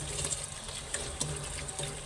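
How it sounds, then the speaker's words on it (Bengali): Broken rice grains are washed by hand in water, a short, faint, continuous splashing and swishing close by. "এই খুদের চাল ভালো ভালো করে মতলে ধুয়ে নিতে হয়"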